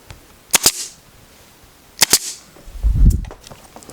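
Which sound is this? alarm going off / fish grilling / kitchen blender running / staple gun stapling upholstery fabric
staple gun stapling upholstery fabric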